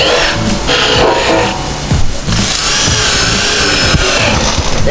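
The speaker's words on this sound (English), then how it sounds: "we're going to drill some pilot holes" A loud, continuous whirring of a power drill boring pilot holes up close, with a brief change in pitch midway.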